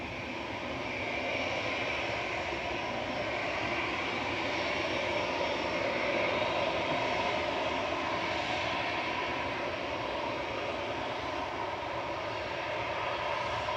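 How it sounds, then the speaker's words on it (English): A Ryanair jet landing at Manchester Airport gives a steady, loud engine roar that holds evenly throughout with no voices. "Just swing over to the landing Ryanair."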